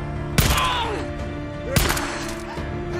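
Two sharp, loud gunshots about a second and a half apart ring out in the Days Gone video game, each with a short echoing tail over a steady game background.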